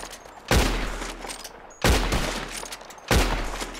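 Three loud gunshots ring out at roughly even intervals while shooting at birds in Red Dead Redemption 2, each a sharp blast trailing into a long echoing decay, with no talk.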